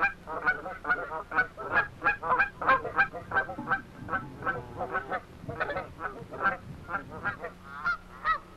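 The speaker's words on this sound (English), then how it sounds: "Long necks with little contrast between the neck and the breast. These are dusky geese." A flock of dusky Canada geese honks continuously, many overlapping calls in a dense, rhythmic chorus at moderate distance with no talking.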